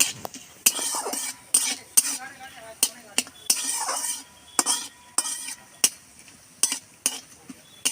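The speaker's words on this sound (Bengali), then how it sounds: "একটা ছোট তেজপাতা, একটু ভালো করে ভাজবো।" A small bay leaf fries in a pan with cumin, soft sizzling broken by repeated sharp scrapes and clinks of a spoon stirring, close and rhythmic.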